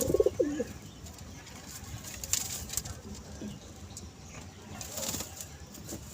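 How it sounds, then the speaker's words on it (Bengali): A female pigeon gives a short low coo at the start, followed by soft pattering of feet and light wing flaps nearby in a quiet loft with no speech. "এটা একটি মাদা পায়রা"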